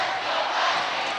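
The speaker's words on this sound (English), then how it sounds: "This Vikings crowd is fired up" A home crowd at a Vikings varsity boys basketball game roars in a steady, loud wash of cheering voices in an indoor gym.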